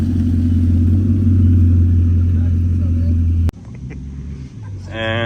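Bugatti Chiron Super Sport driving past, its deep engine rumble loud and close for several seconds before cutting off abruptly, leaving quieter background noise.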